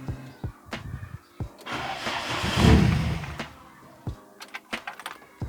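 A VW 20V engine running Speeduino with no idle air control valve cranks over in short bursts, catches around midway with a loud swelling roar, then falls back to sputtering, uneven bursts, close by.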